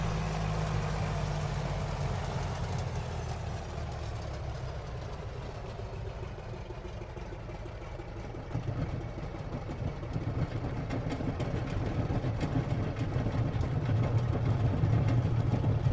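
A De Havilland Tiger Moth's engine in a flight simulator drones steadily at low pitch, its tone sagging as the throttle is pulled back, then a rougher low rumble grows toward the end, alone without talk.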